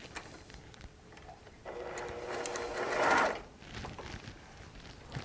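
A sewing machine stitches quilt pieces in a quick run of a few seconds that swells to its loudest near the end before stopping, with quiet handling noises around it.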